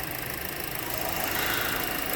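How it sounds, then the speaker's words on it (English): A car engine with just under 100,000 miles runs steadily as it backs out, a dense, continuous mechanical hum with a faint knocking texture and no talking. "We're going to back this car out."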